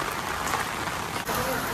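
Rain falls steadily at a seaside beach resort in Konkan, a dense hiss of drops on surfaces that carries on through the whole short stretch, with a faint voice in the background.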